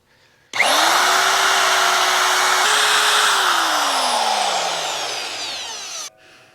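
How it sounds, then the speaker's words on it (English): A power drill runs in one continuous burst of several seconds, drilling holes in metal held in a vise, a loud steady whine that slowly drops in pitch as it winds down, then stops. "let me stick this in the vise and drill the other one out"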